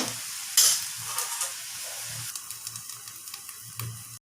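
Curry in a pot simmering after hot water is poured in for a traditional Assamese sour fish dish, soft bubbling and hiss with a brief sharp sizzle early on, quiet and close, with faint scattered clicks and no talking.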